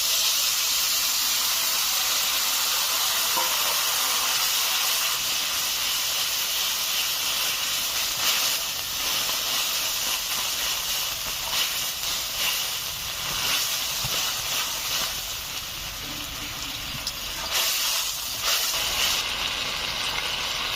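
Potatoes and poppy seed paste simmering in a pan with added water for aloo posto, giving a steady, close hissing sizzle that continues without a break, with brief louder bursts and no voices.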